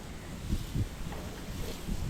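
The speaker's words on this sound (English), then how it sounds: "Windy day." Wind blows outdoors on a windy day, gusting steadily against the microphone as a broad rushing roar with a few low buffeting thumps.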